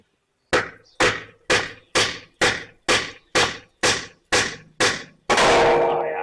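A hammer knocks at stuck bolts in the rear wheel hub of a Ford 2N tractor, ten sharp metallic blows in an even, steady rhythm, close and loud, ending in a longer ringing scrape.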